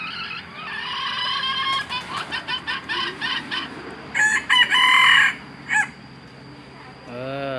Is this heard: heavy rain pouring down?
no